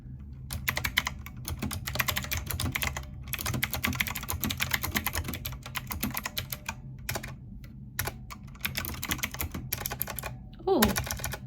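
Rapid clacking keystrokes on a computer keyboard under review, in steady bursts separated by short pauses over a low background hum, close and fairly quiet, with a brief voice near the end.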